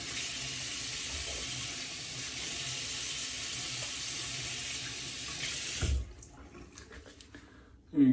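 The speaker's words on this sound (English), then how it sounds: "Let's rinse this off, and I'll show you the damage." Running tap water pours steadily as a wound is rinsed beneath it, a loud continuous splashing that stops abruptly near the end, followed by quieter handling sounds.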